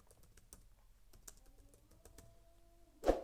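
Keys clack on a computer keyboard in a quiet room, a sparse run of separate taps followed by a louder final keystroke, heard alone without talk.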